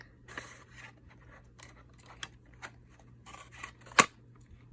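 Faint, sparse snipping and scraping clicks, one sharper snip near the end, quiet and close with no talking.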